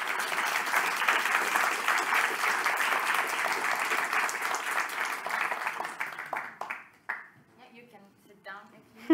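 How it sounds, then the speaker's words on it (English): A lecture-hall audience applauds its speakers with steady, dense clapping for about six seconds. The clapping tapers off as a speaker starts talking again. "I ask you all for a big applause for our speakers."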